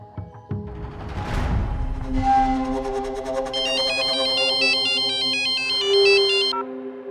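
A phone rings on an outgoing call, a loud electronic ringtone with repeating melodic tones that swell and hold before cutting off, heard alone with no talk.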